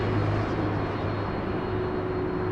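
A Boeing 777 airliner that has just landed at LAX gives a steady, broad engine roar with a low hum, continuous and fairly loud throughout.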